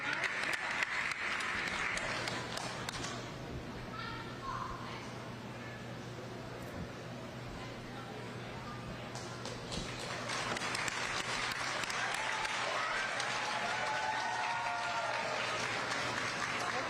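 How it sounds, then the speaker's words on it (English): Audience at a county youth fair sheep show applauding the winners, a long steady wash of clapping that eases in the middle and swells again, with a low hum underneath. "Give the kids a nice round of applause."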